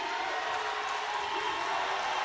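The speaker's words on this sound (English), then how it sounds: "And the crowd is going nuts." A crowd roars at a New South Athletic Conference men's basketball championship game, a steady, dense wall of cheering that holds at an even level throughout.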